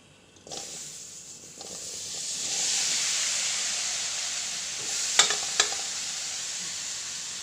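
Tempering for tomato saaru of mustard seeds, urad dal and curry leaves frying in a pan: a sizzling hiss bursts in and swells into a steady, close fry, with a couple of sharp crackling pops near the end.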